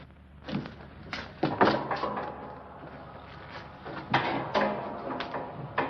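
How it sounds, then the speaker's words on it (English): A door in a stuffy room is opened to reach a folding bed, giving a series of wooden thunks, clunks and rattles at irregular intervals, fairly close with no talk. "there's a folding bed behind this door."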